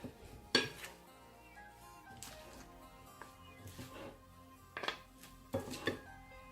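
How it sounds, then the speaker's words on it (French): A feta salad is tossed in a bowl, giving several bursts of clinking utensils and soft rustling leaves, close and moderately loud, separated by quieter pauses with faint background talk. "Donc on mélange bien notre salade."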